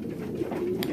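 Pigeons coo in a low, continuous murmur throughout, close and steady, with no talk over it.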